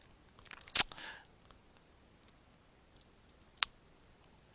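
Taps on a tablet screen during door-knocking sales software training, a sharp click near the start followed by two fainter, sparse clicks in otherwise quiet surroundings.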